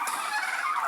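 Domestic turkeys and fowl gobble and call loudly and close while being fed grain and bran, a dense overlapping chorus with no pauses.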